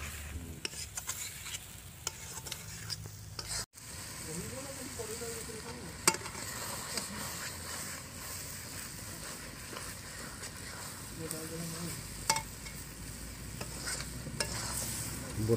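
Goat intestines fry with masala in a pan, giving a continuous sizzle with scraping stirs and a few sharp clanks. A voice speaks briefly in the background.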